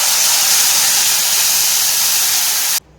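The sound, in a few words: tamarind water added to hot pan, sizzling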